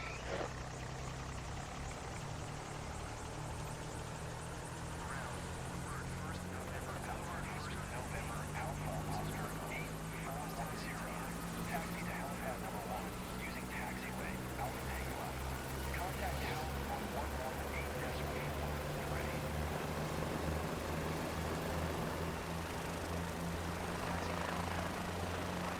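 A helicopter in Microsoft Flight Simulator 24 drones with a steady low rotor and engine hum throughout, while someone talks over it.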